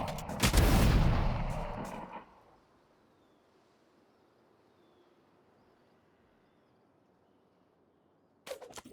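A loud, sharp Operator sniper rifle shot in a tactical shooter game rings out and trails into a long fading echo, followed by near silence and a faint sound near the end.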